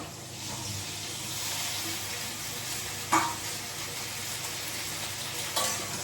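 Okra dropped into hot oil in a home kitchen pan, giving a steady, close frying hiss that runs without pause, broken by two brief knocks of utensil on pan.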